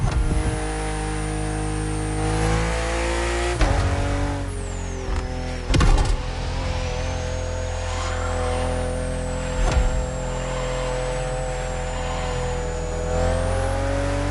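A BMW M4 CSL, the 50th-anniversary M car, drives in The Crew Motorfest on PS5, its engine holding a loud, steady high-revving drone throughout, with a few brief gear-shift dips and no talking over it.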